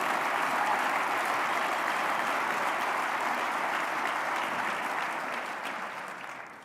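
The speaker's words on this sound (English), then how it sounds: "Clappity, clappity, clappity," Sustained applause from an audience at a press event, dense and even clapping that holds steady throughout before tapering slightly at the end.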